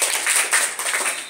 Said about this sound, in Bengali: গুড, হাততালি দাও।